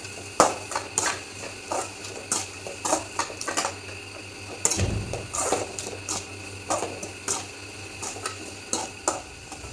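Onions with turmeric and salt sautéed in a pan for an egg kurma, a spatula clinking and scraping against the metal in an irregular rhythm over a faint background hiss.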